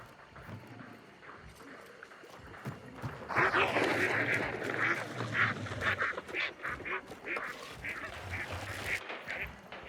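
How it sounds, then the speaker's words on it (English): Agitated ducks stirred up by a decoy in the video game Hunt: Showdown quack loudly and repeatedly in a dense, overlapping chorus, swelling after a quieter start and continuing over a low background rumble. "Here I'm using a decoy to agitate the ducks and draw the closest hunter's attention away from me."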